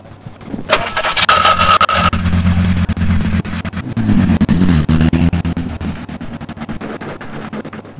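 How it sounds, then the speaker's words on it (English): A Jaguar XKSS moves under its own power for the first time on a road test, its engine catching and then running loudly with a rough, revving mid-range note that settles into a steady drone. "This is the first time the car's moving under its own power."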